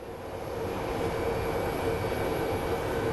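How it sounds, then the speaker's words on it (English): A Volaris airliner at Phoenix Sky Harbor airport gives a steady, moderately loud engine roar with a low rumble and a faint whine, holding even and alone throughout. "And here's our Volaris flight."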